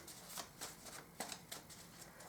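Tarot cards being shuffled by hand, a run of soft papery riffles and slaps in an uneven rhythm, close and fairly quiet, with no talking.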